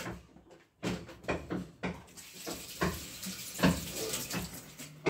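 A tap runs as someone washes their hands after a meal, a close, uneven splashing gush with irregular surges and brief knocks, no voices.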